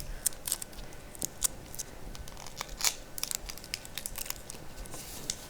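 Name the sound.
adhesive tape being wrapped around a model Mars lander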